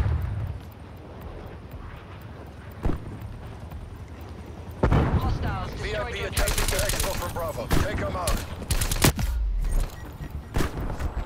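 Gunfire rattles in the video game Call of Duty: Black Ops Cold War, with scattered shots early and then dense bursts that crowd together, mixed under people talking over team chat.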